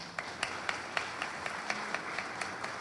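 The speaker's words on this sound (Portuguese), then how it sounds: "uma salva de palmas para todos vocês" Audience applause at a gathering, a dense wash of many hands clapping, with sharper individual claps at a steady beat, quite faint and distant.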